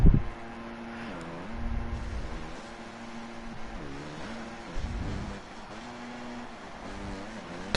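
Team Twisted Yoshimura 250 motocross bike engine in a supercross video game, heard from a helmet cam: a steady buzzing drone that rises and falls in pitch as the throttle opens and shuts, fairly loud and continuous, with no talk.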